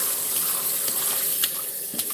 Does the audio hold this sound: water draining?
yes